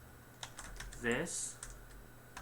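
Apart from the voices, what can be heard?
typing on a computer keyboard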